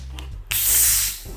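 Sprite Zero is poured over Hennessy and fizzes in a loud, close hiss of carbonation that surges suddenly, holds for about half a second, then tapers off.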